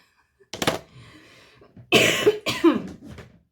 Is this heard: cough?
yes